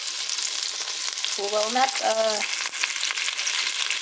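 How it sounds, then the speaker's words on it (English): Garlic and onion fry and get stirred in a pan for an eggplant and beef dish, producing a continuous loud sizzle; a voice speaks briefly partway through. "let's just stir like that for the garlic"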